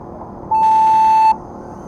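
A single clean electronic start tone for an FPV quadcopter race sounds once, steady and loud for just under a second, over quiet background ambience.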